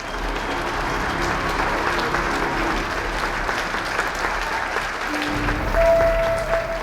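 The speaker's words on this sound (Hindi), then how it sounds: "एक बार मेरी बेटी और दामाद के लिए" A crowd claps steadily and loudly throughout a wedding celebration, a sustained round of applause with no voices standing out.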